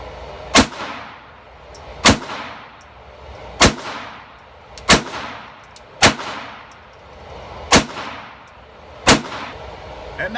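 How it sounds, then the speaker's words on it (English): Sig Sauer .22 pistol fired one-handed, seven sharp, loud shots spaced roughly every one to two seconds in a steady rhythm, each with a short ringing decay and no talking between them. "I'm going to do strong hand only, because with a little gun like this, you may as well get used to it"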